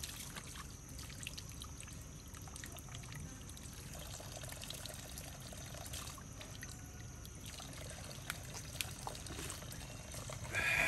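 A natural spring flows in a continuous soft trickle in an outdoor rural spot, with faint slurping as the water is drunk. The sound is low and steady and ends with a louder burst.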